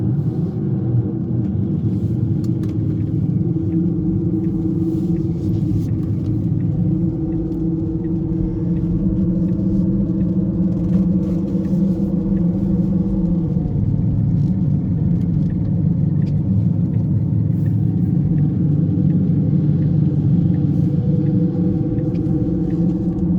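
A GLYDSPHERE active exhaust sound system on an electric car plays a synthesized bald eagle engine tone, a steady low droning rumble that swells slightly and holds throughout, loud and close with no talking.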